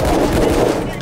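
Rapid bursts of gunfire from the Payday 2 video game during a very hard bank heist, dense and continuous through the whole short moment with a voice faintly mixed in.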